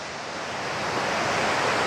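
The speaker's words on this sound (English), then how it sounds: "lovely river." A river in a picturesque village area of Portland, Jamaica, gives a steady, broad rush of flowing water, constant and fairly loud throughout with no voices over it.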